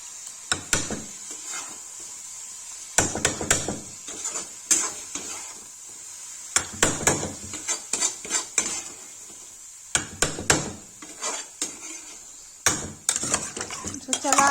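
A spoon stirs black chickpea curry with tomato puree in a metal kadhai, producing close, repeated scraping and clanking bursts in uneven clusters separated by short quiet gaps, over a faint sizzle.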